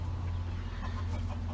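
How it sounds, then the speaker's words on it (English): A mother hen and her chicks cluck softly inside a chicken coop, a low, steady murmur of fowl sounds heard close by at modest volume, with no talking. "Right now it's occupied with Mama Hen and her babies."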